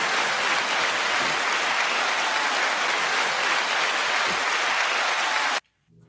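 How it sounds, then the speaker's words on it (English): Dense, steady applause from a crowd for several seconds, cutting off abruptly near the end. "9 second applause to BK."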